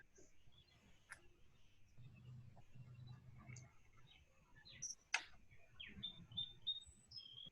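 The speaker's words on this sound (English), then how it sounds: "I'm getting stereo now of the birds" Birds chirping and singing outdoors near a tree, with several short bright calls and a run of quick repeated tweets toward the end over a low background rumble.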